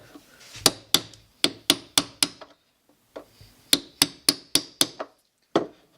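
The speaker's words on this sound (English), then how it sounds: "So the next point of business will be to set all the nails in." Nails are driven into antique furniture with a hammer and nail set: sharp, close, ringing taps come in two quick runs of about six strikes each, with a short pause between and one last tap.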